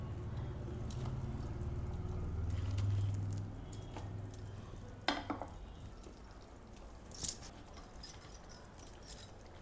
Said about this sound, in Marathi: आता आपण यात भजी सोडून घेऊ.